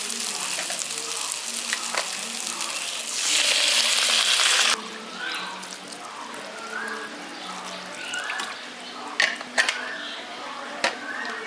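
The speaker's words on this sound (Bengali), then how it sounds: "জলটা দিয়ে দিয়েছি, এবার ভালো করে মিশিয়ে দিচ্ছি।" Water is poured into a pan of frying jackfruit and potato masala, producing a loud burst of hissing sizzle for about a second. A steadier bubbling sizzle follows with soft stirring scrapes and a few clinks.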